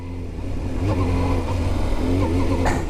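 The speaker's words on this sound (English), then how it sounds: "the sound and the howl when you open this up, oh man, that's addictive, that's intoxicating" A Yamaha R7, an early fuel-injected motorcycle, howls under open throttle, its engine note loud and close, holding steady with a slight surge near the end.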